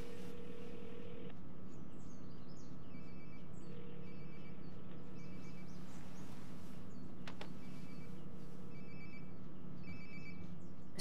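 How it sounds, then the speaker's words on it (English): A phone rings in short repeated electronic trill bursts in Life is Strange: Before the Storm, fairly quiet over a low background hum. "Sounds like my phone is definitely nearby."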